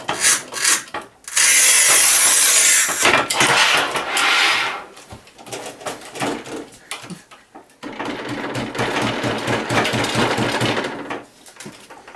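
A manual tile cutter, a modified SIRI PRO 90 or SIGMA Serie 4, scores tile with bursts of loud, rasping scraping, broken by pauses and knocks, in a close workshop setting.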